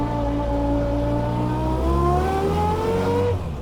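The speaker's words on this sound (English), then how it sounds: "It's the 3-synchro Cooper 998 Cooper transmission. So you hear that first gear?" A 1965 Austin Mini Cooper MKI with a 3-synchro Cooper 998 transmission accelerates in first gear, a loud close engine note with a whining gearbox tone climbing steadily in pitch from inside the car, without talk.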